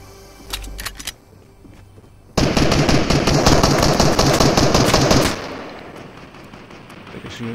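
Sustained automatic gunfire and shotgun blasts from a Fortnite solo-versus-squads match, a few sharp shots first, then a dense loud burst of rapid firing for about three seconds that trails off into softer ambient noise.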